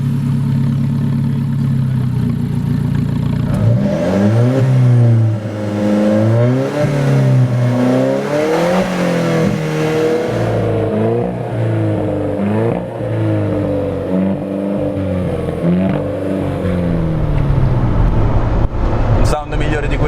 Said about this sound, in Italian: è il rumore del motore. Stiamo sempre parlando di un 4 cilindri.